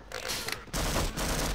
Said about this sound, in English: I'm gonna take out the tranquilizer gun.